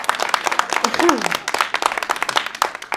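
Scattered hand clapping from an audience at a board meeting, a dense patter of sharp claps over a few seconds mixed with background murmur and a voice.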